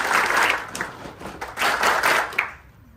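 A church audience claps together on cue in a few sharp, close bursts of applause, then falls quiet.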